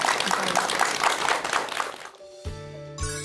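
Audience applause at a lecture, dense and sustained for about two seconds before fading into a quieter room with musical tones.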